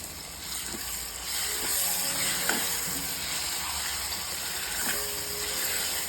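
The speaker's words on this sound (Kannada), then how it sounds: "ಈಗ ಬದನೆಕಾಯಿ ಟೊಮ್ಯಾಟೊ ಈ ಮಿಶ್ರಣನ ಇದರಲ್ಲಿ ಹಾಕ್ಕೋತಾ ಇದ್ದೀನಿ" A brinjal and tomato mixture with garam masala sizzles and hisses steadily in a hot pan, a continuous loud frying crackle with faint spoon scrapes and no talk.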